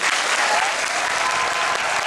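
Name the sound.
audience applause at a musical curtain call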